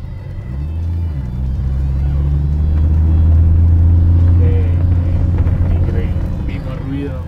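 A 1977 Ford Falcon Futura engine idles steadily with a low, throaty rumble, close and continuous, its tone rising slightly as it runs.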